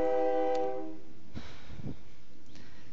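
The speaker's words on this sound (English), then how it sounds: "that is a train passing right by my house" A train passes by a house, its horn sounding a steady harmonic tone that fades within a second, followed by a few low rumbles and thuds under quiet room ambience.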